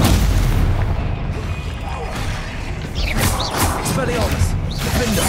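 Bombarda spell explosions in the Hogwarts Legacy video game, heavy booming blasts and crashing debris over a constant din of combat and game music, with voices shouting at times.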